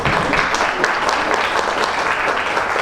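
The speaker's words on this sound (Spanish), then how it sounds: "pediría un fuerte aplauso para nuestros ponentes" At a heritage forum panel, the audience gives the speakers a dense, even round of applause that stays loud and continuous for the full few seconds.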